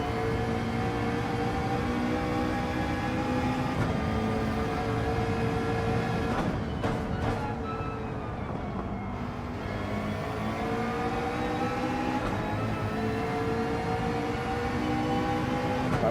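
A race car engine under hard throttle in Gran Turismo 7, a loud, continuous whining drone with harmonic tones that rise, dip briefly around gear changes and then climb again, heard without voices.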